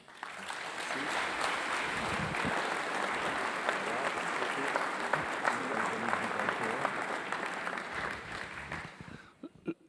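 Sustained audience applause at an award ceremony where a grand prize of honour is presented, dense steady clapping that fills the room for nearly ten seconds before thinning out at the end.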